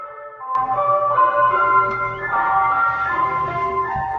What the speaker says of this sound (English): Is that the ice cream truck?